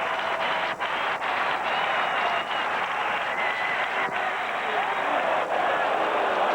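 A baseball stadium crowd at an Angels vs Twins game stands and cheers while waiting for a third strike, making a steady, broad roar that holds for several seconds with no break in it.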